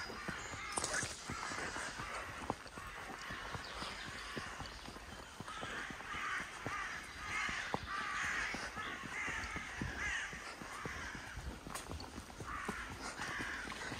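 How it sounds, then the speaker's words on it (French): Crows cawing repeatedly near a farm, harsh calls coming in bursts over steady outdoor background with faint hoof-like clopping and footsteps underneath. "On s'éloigne des corbeaux."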